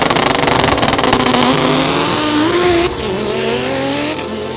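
A Black Zenith EVO drag race car roars hard throughout, its engine note sweeping upward in pitch through one gear and dipping briefly around a shift before climbing again, loud and close with tire noise underneath.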